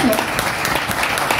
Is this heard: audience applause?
yes